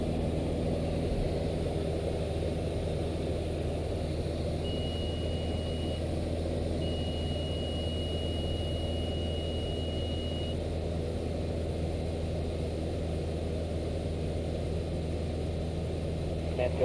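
Light aircraft engine throttled back from cruise in flight, a steady, loud drone filling the cabin throughout, with a faint high beep tone appearing briefly partway through.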